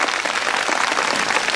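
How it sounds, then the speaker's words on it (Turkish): Strong audience applause for a quiz champion at an outdoor Circassian culture festival in Uzunyayla, a dense continuous roar of many hands clapping with no pause, close and steady throughout. "Şimdi şampiyonuma bir kocaman alkış istiyorum ama bu sefer hakikaten kuvvetli bir alkış."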